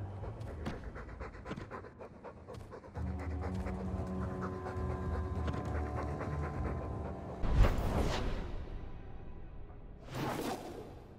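Dog panting in Dragon Age II, a steady rhythmic huffing over low game ambience, with two sharp whooshing bursts near the end.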